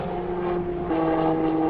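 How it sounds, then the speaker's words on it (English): A Long-EZ canard aircraft with a pusher propeller engine passes overhead near a local airport, giving a steady droning hum with a stable tone that swells slightly louder midway through. "Very, very unique engine sounds on that particular aircraft."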